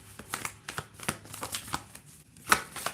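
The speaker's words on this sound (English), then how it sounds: "we'll pull some cards" Tarot cards are shuffled by hand in a series of soft, quick riffling bursts with brief pauses between them, close and fairly quiet, with no speech.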